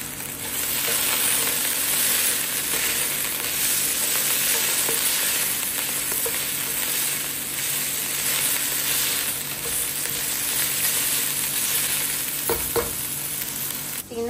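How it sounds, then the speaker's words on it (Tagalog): Beef frying in a pan gives a loud, continuous close sizzle throughout, with a couple of brief utensil clicks near the end and no talk. "Piniprito ko yung beef."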